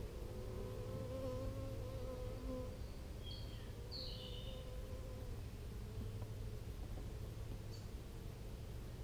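Honey bees buzzing in an opened hive during an inspection, a faint, steady, low drone with a few brief higher whines over it, no speech.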